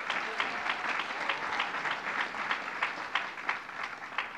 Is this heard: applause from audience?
yes